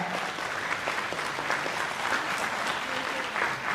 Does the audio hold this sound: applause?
yes